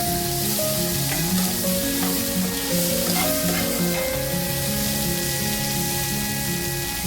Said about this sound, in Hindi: अब इधर देखिए वेजिटेबल्स भी बहुत अच्छे से फ्राई हो रहा है।